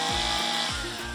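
Chainsaw cutting tree limbs into small pieces, its engine revving in two quick surges, close and fairly loud.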